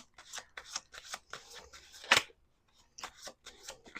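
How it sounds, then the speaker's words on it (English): Tarot cards shuffled close up in quick repeated flicking bursts, one sharp slap near the middle, a brief pause, then more light shuffling. "Let's do 2 more shuffles here"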